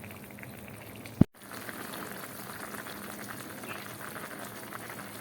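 A lemon sour hilsa fish curry made with toba lemons simmers in a village kitchen, bubbling with a steady soft gurgle, broken once by a sharp click and brief dropout before the boiling continues.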